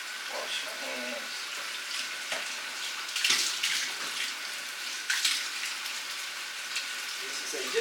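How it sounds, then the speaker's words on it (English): Tap water runs steadily into a kitchen sink while hands are washed under it, a soft, continuous splashing hiss with a few brighter splashes as the hands move through the stream. "Let me wash my hands."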